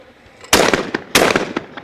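Two sharp shotgun blasts ring out in quick succession at a sporting clays range, fired at a clay target, loud and close with a short echoing tail after each.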